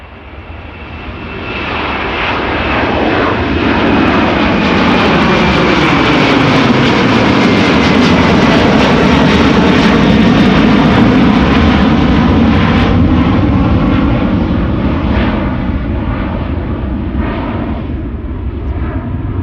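Delta Airlines jet airliner, flight 73 to Atlanta, departing Amsterdam Schiphol: a powerful engine roar builds within two seconds, peaks loud and close with a descending whine and rippling tones, then gradually recedes.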